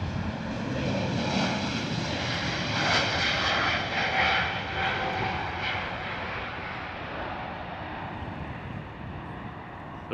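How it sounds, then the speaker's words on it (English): An Austrian Airlines Airbus A320neo departing Heathrow roars past, its jet engine rumble swelling and then slowly fading into the distance, alone without talk. "Lovely departure there from the Austrian A320neo."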